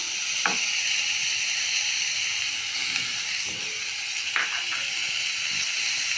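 Curry leaves, cumin seeds and garlic sizzle in hot oil while making a green tomato chutney, a loud continuous hiss with occasional sharper spits and crackles, close up and without voices.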